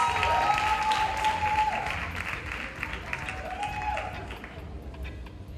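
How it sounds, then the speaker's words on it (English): Crowd applause at a performing arts awards ceremony, a broad, moderately loud clatter of many hands, partly mixed with a sustained musical tone and faint crowd noise, continuing steadily through the whole stretch. "Give her a big round of applause"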